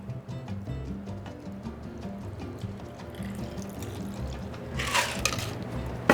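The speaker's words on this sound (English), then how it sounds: "Then take your Hawthorne strainer and we're going to strain" A margarita is strained through a Hawthorne strainer over ice into a salted glass: a soft, close trickle of liquid with light ice clinks, quiet and without speech.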